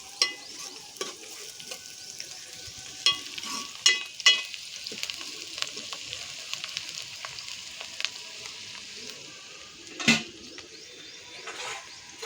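Curry leaves fry and crackle in a pan for a prawn and gongura curry while being stirred. Sizzling continues throughout, with frequent scraping stir strokes and a few louder spits and clinks.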